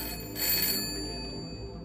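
A telephone rings behind a bar counter, a single short electronic ring burst at moderate loudness over a low background hum, with no talk.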